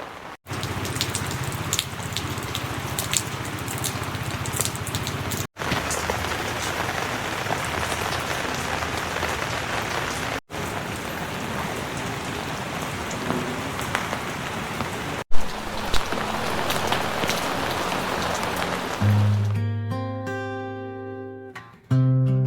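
Night rain at a treehouse villa in Sapang Bato, Angeles City pours in a steady, dense patter on surfaces, broken by a few abrupt cuts, before soft music with chimes rises at the end.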